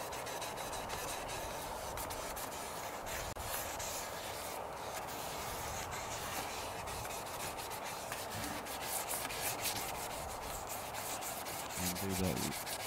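Lacquer finish being sanded on the body of an ES-335-style semi-hollow guitar, a steady, continuous rubbing and scraping that runs close and even throughout with no voices.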